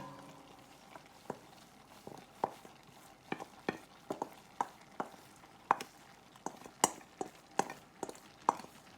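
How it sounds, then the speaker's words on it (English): Drained rice is mixed into a mince beef mixture with a spoon, giving a quiet, regular series of soft scraping and knocking strokes, roughly one or two per second, over a low background. "I'm going to mix it all through together."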